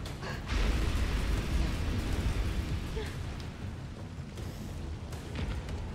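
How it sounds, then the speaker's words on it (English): Nemesis in Resident Evil 3 Remake unleashes a flamethrower, a steady low roaring whoosh of fire that swells early and then holds as a continuous rumbling blast for several seconds, with no one talking over it. "Who gave you a flamethrower?"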